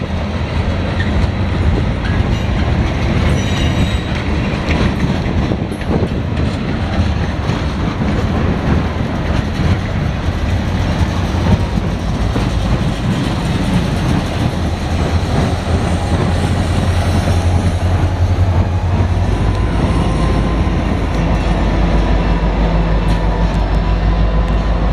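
Norfolk Southern local freight train L38 rolls past nearby in Marion, Ohio, a loud, steady rumble of railcars with clickety-clack wheel noise sustained throughout, no voices.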